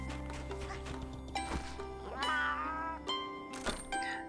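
A cat meows in the video game Monster Hunter Stories 2, heard as a short rising mew over steady game music and sound effects.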